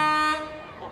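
Vehicle horn honking at a Christmas parade, a sustained tonal blast that holds for about a third of a second and then fades, with crowd noise around it.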